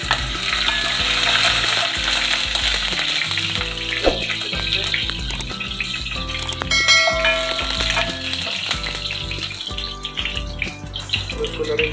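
Garlic fries in hot oil in a pan, a loud, dense sizzle that crackles continuously, with stirring scrapes and a few clanks of utensils against the pan.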